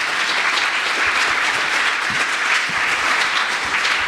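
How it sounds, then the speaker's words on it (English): Sustained, loud applause from a seminar audience welcoming a presenter, an even wash of many hands clapping close by with no pauses and no speech over it. "So, a round of applause for him."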